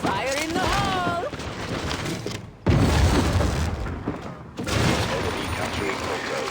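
Explosions and gunfire in the shooter game Critical Strike, with loud booming blasts that cut in abruptly, heavy rumble and crackling fire, and game voices calling out over the noise.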